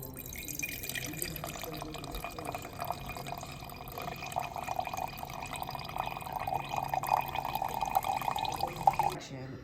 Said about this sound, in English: we're gonna pour it into a new container and then dilute it with another cup of water